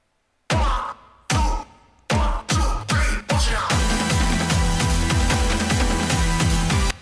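Electronic music, performed live on MIDI devices, opens with a few heavy, spaced drum hits and then settles into a dense, driving loop of punchy electronic beats, loud and with no voices.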